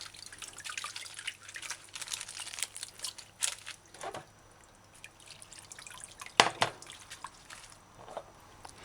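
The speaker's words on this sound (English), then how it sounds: "Put vegetables in colander. Allow it to drain excess water." Water drips and trickles from freshly rinsed vegetables, lettuce and cabbage, in a colander, with irregular close taps, faint crinkling of leaves and a brief louder splash near the end.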